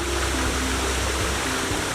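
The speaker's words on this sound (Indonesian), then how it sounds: "Suara gemercik air yang jatuh menambah kesan alami." Water from a mountain waterfall splashes and rushes in a steady, loud, continuous roar with no pauses and no voices.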